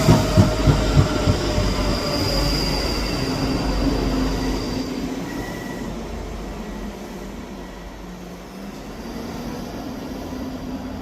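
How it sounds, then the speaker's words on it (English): ScotRail passenger service from Helensburgh Central to Edinburgh Waverley arriving at Edinburgh Haymarket station, a steady rumble of wheels with rhythmic clicks over rail joints early on, high wheel squeal, gradually slowing and easing, with no talk. "Arriving in now is the 1030 Scotrail service from Helensburgh Central to Edinburgh Waverley"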